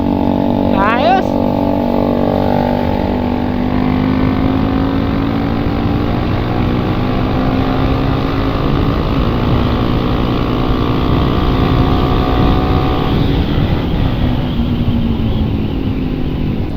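Motorcycles with open pipe exhausts roaring past on a group ride in Bataan, a loud continuous engine drone with rising and falling pitch, people talking over it.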